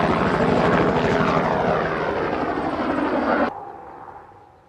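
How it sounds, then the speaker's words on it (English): A loud whirring rotor drone of the Kitty Hawk Heaviside electric VTOL aircraft flies close by, then cuts off abruptly, leaving a faint fading hum. "Project Heaviside is Kitty Hawk's latest electric VTOL vehicle."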